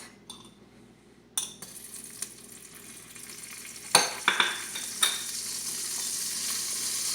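Butter added to extra virgin olive oil sizzles and fries in a pan on the stove, a steady crackle rising after a quiet start, broken by a few sharp clinks of utensils against the pan.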